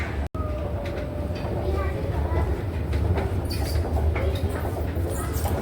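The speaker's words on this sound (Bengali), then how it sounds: "এই কাঁচের কভার দিয়ে মেট্রো যাওয়া আসা করে" A metro train running past behind a glass-covered track, a steady rumble with rail clatter and rising hiss, heard nearby with some background voices.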